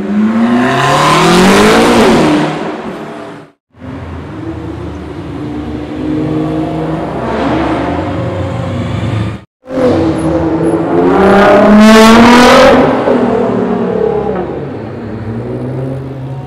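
A Mercedes-AMG GT R Roadster revs hard in loud, close bursts, its engine climbing and falling in pitch, with two brief silent breaks between the rev sequences.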